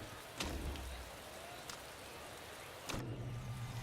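Steady rain hiss across a race in the Motorsport Manager video game, with a car engine rumbling briefly near the start and again near the end under broadband wet noise.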